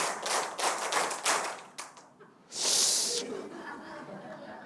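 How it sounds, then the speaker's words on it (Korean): A group claps about six quick, sharp hand claps in a clapping game, followed by a short burst of hissing noise and a low murmur. "박수 6번 시작."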